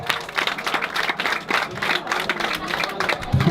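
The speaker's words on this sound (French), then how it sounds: "on les applaudit bien fort s'il vous plaît" An outdoor audience in Senegal applauding the winners, with irregular clapping from a modest crowd and voices mixed in.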